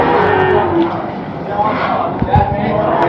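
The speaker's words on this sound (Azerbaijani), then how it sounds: "Sağlam inəklərdir." Cattle moo loudly and close by at a busy livestock market in Mashtaga, Baku, with long lowing calls rising over a background of crowd chatter.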